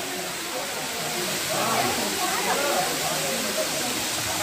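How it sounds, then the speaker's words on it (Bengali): Water falling from a height at a waterfall in Patratu valley, a steady broad rushing hiss that carries on evenly throughout, with a person speaking over it. "ওই যে অনেক উঁচু দিকে জলটা পড়ছে।"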